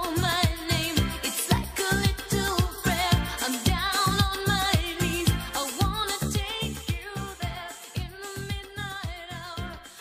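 A pop song plays forwards with steady drums, bass and layered vocals, loud and continuous throughout.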